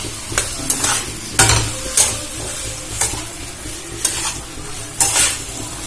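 Egg veg pasta with a little added water is stirred in a pan, loud rhythmic spoon scrapes about once a second over a steady close sizzle.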